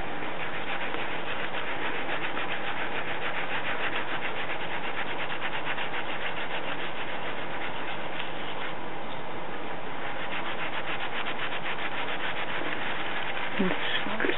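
A brush scrubs a textured solder jewelry piece, a steady continuous scratchy rubbing held close and loud throughout, with no pauses.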